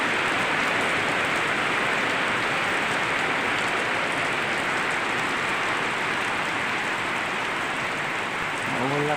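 Heavy rain falls hard on surfaces in a thick, steady roar, close and loud throughout, with a faint voice surfacing right at the end.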